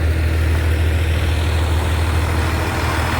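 A truck's new engine idles close by, a loud, steady low rumble that holds unchanged through the whole clip with no voices.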